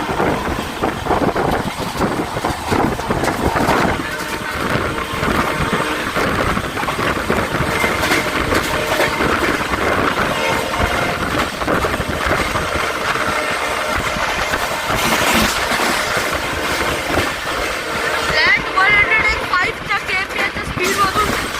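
The CSMT–Dhule Express, hauled by a diesel locomotive, runs at speed near Dombivli, a loud sustained rumble with rattling wheel noise and clatter that shifts and swells over the stretch.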